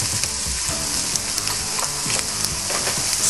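Collard greens with a sprinkle of cumin sizzle loudly in a frying pan, a continuous hiss broken by scattered scraping stir sounds and small taps, with no talking.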